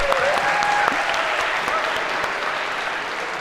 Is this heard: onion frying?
no